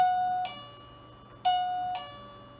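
An electronic doorbell chimes twice in a two-tone ding-dong pattern, clear and close, each tone ringing out before fading.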